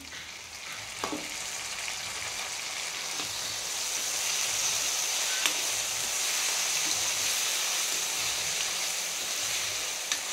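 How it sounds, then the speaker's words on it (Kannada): Tomatoes frying with capsicum in a pan give off a steady, loud sizzle that swells midway, with a couple of faint clicks and stirring touches. "ಟೊಮೆಟೊನ ಅಷ್ಟೇ ತುಂಬ ಸಾಫ್ಟಾಗಿ ಆಗೋ ತನಕ ಫ್ರೈ ಮಾಡ್ಕೊಬೇಕು"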